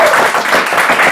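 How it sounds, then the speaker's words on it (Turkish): Audience applause at a talk show, a short, loud burst of dense clapping from a crowd filling the whole moment. "Büyük alkış alalım ona."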